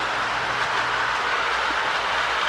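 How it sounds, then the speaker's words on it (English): A Marx Blue Bonnet E7 Texas Chief toy train runs along its track, making a steady, close rolling rumble with faint rhythmic clatter and no talking. "We'll follow the train a little bit."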